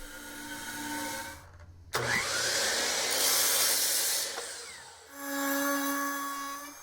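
A router rounding over the edges of a butcher block dinette table, a loud, steady high-pitched whine of the bit cutting wood that runs for about three seconds between quieter stretches of tool hum.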